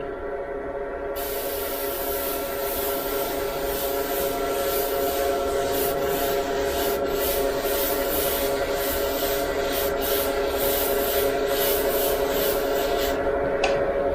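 A side feed airbrush sprays paint in a steady, continuous airy hiss that runs unbroken for the whole stretch, close and fairly loud, with no voices.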